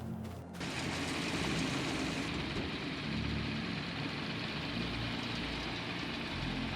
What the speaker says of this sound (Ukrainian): Так, ну мотор вже наче прогрівся,